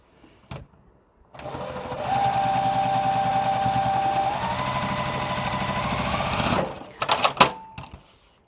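A sewing machine stitches a quilt piece onto a nine patch block in one long, steady run of fast mechanical whirring, close by, followed by a few sharp clicks and clacks as it stops.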